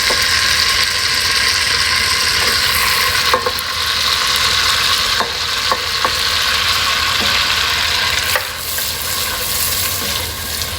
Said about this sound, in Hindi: बटर मेल्ट हो गया, इसमें अपने प्याज डाल देंगे।